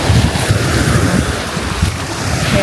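Loud, steady wind roars across the microphone while ocean waves wash and surge beneath it on Boracay's beach near Station 1, Philippines, a constant dense rush with no voices.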